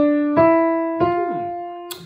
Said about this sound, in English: Now here is an actual tetrachord which sounds like this.